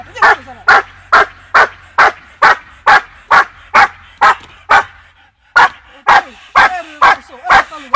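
A dog barks during table training in a steady rhythm, about fifteen sharp, loud, close barks at even intervals with one brief pause midway.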